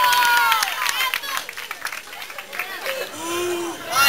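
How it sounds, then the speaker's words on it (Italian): Applause from a concert audience at a show in Pescara, a dense burst of clapping and cheering that thins out over about four seconds, with whistles and a few voices rising through it. "un applauso in console"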